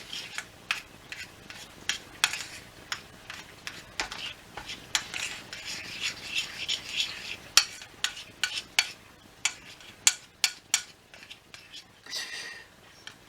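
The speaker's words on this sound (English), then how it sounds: "And then we'll mix this together" Garlic stuffing for chicken breast is mixed in a bowl, a close run of sharp clinks and scrapes of a utensil against the bowl with an irregular rhythm, softer rustling between hits and a brief hiss near the end.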